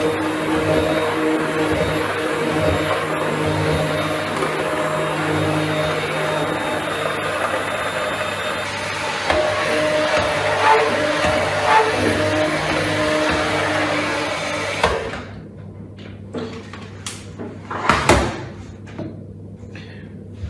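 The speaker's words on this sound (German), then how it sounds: "Jetzt püriere ich alles nochmal zusammen gut durch." A motor runs with a steady loud whir as pumpkin soup is pureed, for about fifteen seconds before cutting off, followed by a few scattered knocks and clatters.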